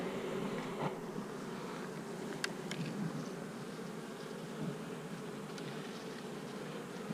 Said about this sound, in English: Quite a few bees in this box also.